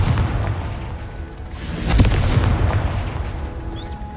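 A Confringo blasting curse going off in Hogwarts Legacy: a loud, close explosive boom with a sharp burst around the middle, rumbling low end throughout and a brief high whistle near the end, no voices.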